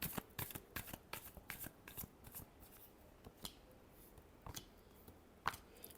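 Tarot cards shuffled by hand make rapid, crisp riffling flicks that come in a quick rhythmic run and then thin out, close and quiet, with no talking.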